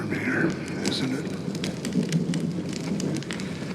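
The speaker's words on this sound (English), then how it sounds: "You're lucky to have found shelter from the rain" Steady rainfall in a video game scene, a constant close hiss of drops with faint crackling, continuing throughout.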